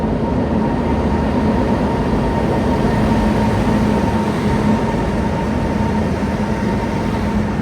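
A special passenger train on the Katra to Srinagar line rumbles along with a constant low drone and rolling noise from inside the coach, steady and unbroken throughout.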